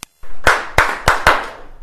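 A comedy show audience at Dickinson College claps in unison along to a song, four sharp, loud group claps in a steady rhythm over room noise, with no talking.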